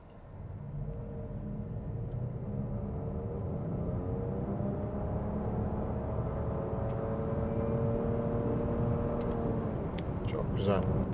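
Steady engine and tyre roar rising under acceleration from a 2024 facelifted Nissan Qashqai e-Power during a 0-100 km/h run, a continuous building drone with faint rising tones, no talk heard.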